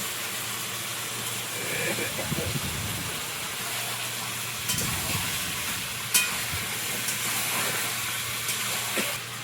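Ginger paste sizzles in hot oil alongside meat in a cooking pot, giving a steady, moderately loud frying hiss with occasional stirring scrapes throughout.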